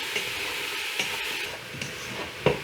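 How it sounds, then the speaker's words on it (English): Mushrooms, onion and garlic with salt and pepper are stirred in a frying pan, a steady sizzle broken by a few scraping strokes of the spoon, close and alone. "give this a really good stir"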